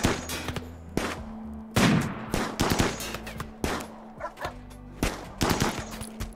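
Bursts of gunfire from RimWorld video game combat crack out in rapid, uneven volleys, with several sharp loud shots and short clusters spread across the stretch, over a steady low game hum.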